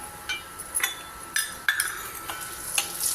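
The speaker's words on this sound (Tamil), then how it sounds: "உளுத்தம்பருப்பு அந்த அளவுக்கு வறுத்துக்கலாம் லைட்டாக கலர் மாறினாலே போதும்" Urad dal and peppercorns dry-roasting in a pan for capsicum chutney, with a low crackle under sharp, close clinks and scrapes of a spatula at an irregular rhythm.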